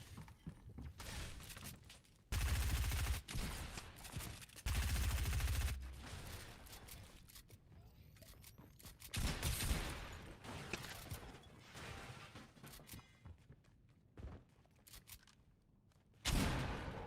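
Bursts of gunfire in the video game Fortnite during a solo tournament fight, with several loud rapid volleys separated by quieter stretches of clicks and mechanical game sounds; no talking over the shots.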